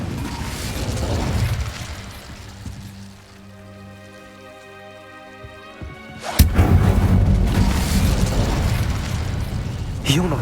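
An Incendio fire spell in Hogwarts Legacy erupts with a loud burst and roaring whoosh that sustains for several seconds, following a rumbling passage and a quieter musical stretch.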